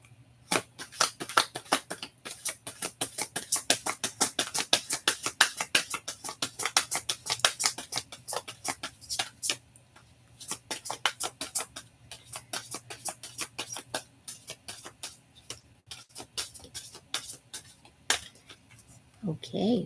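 Tarot cards are shuffled in rapid, crisp riffling bursts, a flurry of papery clicks that pause and resume several times, fairly close and at modest volume.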